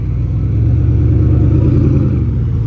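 A Koenigsegg Regera supercar engine rumbles loud and close during Monterey Car Week, a steady deep drone with no clear rise or fall.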